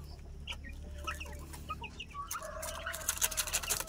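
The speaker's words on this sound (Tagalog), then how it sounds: "So naa sa diri ang akong uban mga manok" Broiler chickens in a grower pen cluck and chirp in scattered bursts over a steady low hum, the calls growing busier and more overlapping toward the end.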